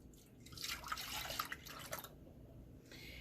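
Milk poured into a pot for Mexican chocolate pudding, a soft trickling, splashing pour lasting about two seconds before quieting, no voices.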